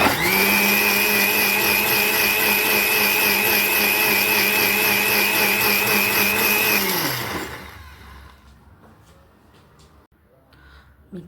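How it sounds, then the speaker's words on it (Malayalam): A mixer grinder blends mango with a loud, steady whine for about seven seconds, then winds down and stops, leaving a quiet room. "മിക്സിയിലിട്ട് നന്നായി അടിക്കുക."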